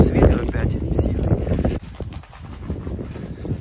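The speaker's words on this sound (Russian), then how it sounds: "Ну и ветер опять сильный." Strong wind buffets an outdoor site where epoxy sand paving stones are being laid, producing loud, gusty microphone rumble that rises and falls under a voice, easing somewhat partway through.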